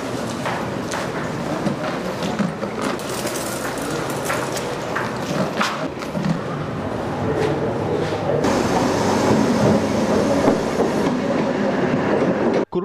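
An office train bound from Maho to Colombo Fort pulls out of Kurunegala main railway station, with rhythmic clickety-clack of wheels over rail joints and a steady rumble that grows louder toward the end.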